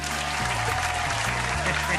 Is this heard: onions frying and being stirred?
no